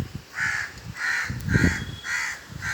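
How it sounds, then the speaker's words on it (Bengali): A crow caws five times in a steady rhythm, loud and fairly close, with nothing else competing. "ওই দেখুন কাকটা কী করবে বলুন"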